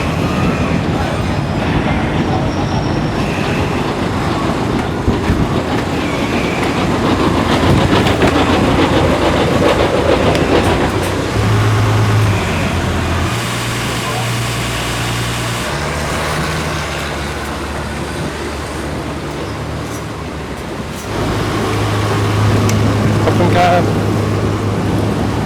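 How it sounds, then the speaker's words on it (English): A loud, continuous boat engine drone with rumbling and clattering mechanical noise as a hotel ferry arrives at a pier in Bangkok, Thailand, persisting throughout with no clear pause. "The Hilton boat has just arrived"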